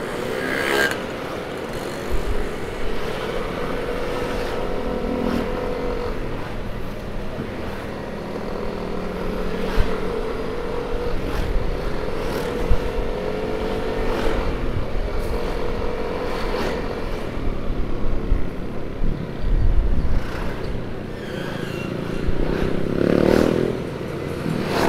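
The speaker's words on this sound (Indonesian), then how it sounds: "Sampai sini macetnya parah." Heavy road traffic jam on Jalan Baru Maracang in Purwakarta during Ramadan evening, with a steady rumble of car and motorcycle engines, passing revs and occasional horn-like bursts, continuous and fairly loud with no talk.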